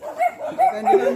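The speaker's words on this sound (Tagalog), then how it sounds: "Limang aso yan, oh." Several dogs bark and yip in short, excited bursts on a rural hillside, close and fairly loud, with voices talking over them.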